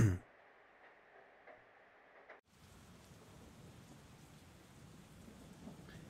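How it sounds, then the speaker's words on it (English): Rain falling outside in the video game Persona 4 Golden, a soft steady hiss of rainfall that begins abruptly after a quieter stretch of faint background tones and continues evenly, low and distant. "You can hear it raining outside."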